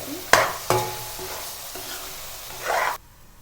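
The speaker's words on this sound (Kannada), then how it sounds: "ಆವಾಗವಾಗ ಮುಚ್ಚಳ ತೆಗ್ದು ಸ್ವಲ್ಪ ಫ್ರೈ ಮಾಡ್ಕೊಳ್ತಾ ಇರಬೇಕು" Brinjal for vangi bath frying in a pan, with a few sharp scrapes and knocks as it is stirred, a steady low sizzle running underneath, and a short rise of sizzling near the end.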